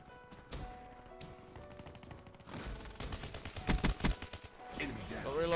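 An HG-40 submachine gun fires in the video game Black Ops 3, in rapid bursts that build toward the end over game music and effects, fairly quiet and in the mid-distance.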